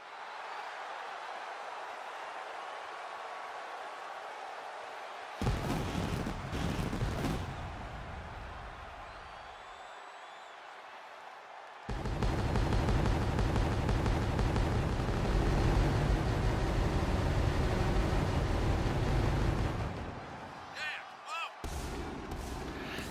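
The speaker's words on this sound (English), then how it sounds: "I make no apologies for all the pyro I put in" Loud bursts of pyrotechnics go off during a wrestler's entrance in the WWE 2K23 video game, two short blasts followed by a long sustained roaring blast and a few final pops, with quiet gaps between.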